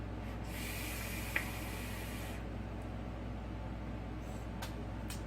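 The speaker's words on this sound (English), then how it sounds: "I'm vaping it here on the Smoke G150" A Cthulhu Azathoth RDA coiled at 0.166 ohms on a Smoke G150 mod, fired at 90 watts: a close, airy hiss of a long draw lasting about two seconds over a quiet steady hum, then a few short faint puffs of breath.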